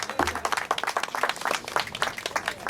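Wedding guests clap for the couple, a lively burst of close, uneven handclaps with distinct individual slaps, sustained at a moderate level across the moment with faint voices underneath.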